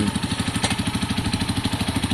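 A KSR Moto GRS 125 motorcycle idles while warming up, a steady, close single-cylinder putter with an even rapid pulse and no rev changes.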